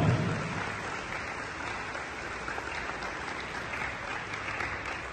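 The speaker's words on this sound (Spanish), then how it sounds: "Que se escuche fuerte ese aplauso." Audience applause at a school graduation and closing ceremony in Pinotepa Nacional, Oaxaca: steady, dense clapping from a large crowd heard at moderate distance, holding evenly for several seconds with no talk over it.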